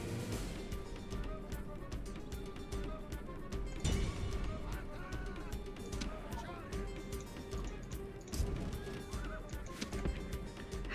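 Horses pulling war chariots neigh and whinny amid a busy Rome: Total War battle mix of hooves and clatter, with someone commentating over it throughout.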